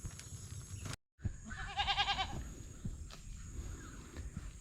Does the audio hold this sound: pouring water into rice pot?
no